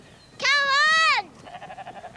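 A sheep on a small 11-acre farm in Wainuiomata, New Zealand, gives one loud, close, sustained bleat, followed by fainter, wavering animal sounds and murmuring in the background.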